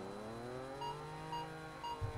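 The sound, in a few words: car nitrous purge in a racing video game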